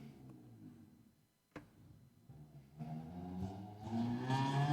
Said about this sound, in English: It's a very loud motorcycle.